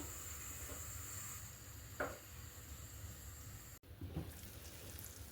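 Beef mince pizza sizzling in melted butter in a covered pan, a faint continuous hiss and crackle with a soft clatter midway, no talking.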